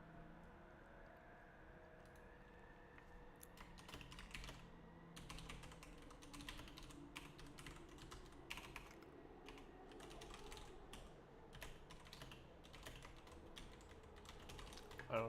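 Typing on a computer keyboard, a steady run of quick close key clicks with short pauses, over a low background hum.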